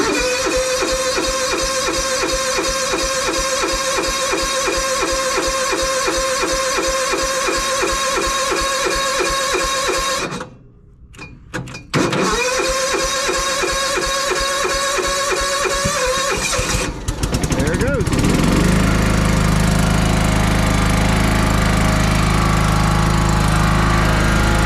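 A John Deere lawn mower on full choke, heard up close: its engine runs loudly and steadily, cuts out briefly, restarts and keeps running. A harsh, unbroken roar follows near the end.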